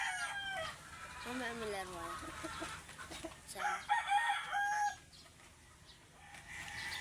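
A rooster crows near the start and again partway through, loud and close, with other chickens clucking and someone talking over them during chicken weighing.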